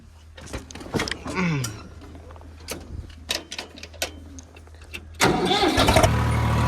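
A Swaraj tractor with a cultivator attached: scattered clunks and knocks, then the diesel engine turns over and settles into a loud, steady, low idle rumble near the end.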